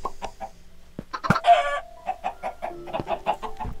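Chickens clucking in a video game, a busy run of short, rapid clucks and squawks with one louder burst, close and clear, with no talk over them.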